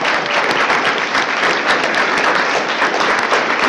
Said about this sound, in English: We're going to go ahead and clap for each closing statement.